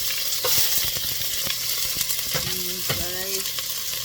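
Chopped onion sizzling and frying in a deep pot, with a steady hiss and a few stirring clatters and scrapes of a utensil against the pot.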